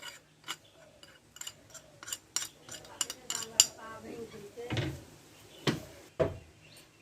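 Egg and flour batter with turmeric, Kashmiri chilli, salt and chaat masala being mixed in a bowl, heard as close, irregular clinks and scrapes of utensil against the bowl, with a few sharper knocks near the end.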